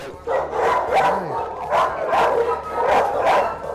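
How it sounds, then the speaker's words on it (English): Several stressed dogs bark and yip repeatedly in rhythmic bursts, loud and close, with whimpering between barks in a noisy indoor setting. "Stressed out dogs right now. So it's a little bit noisier."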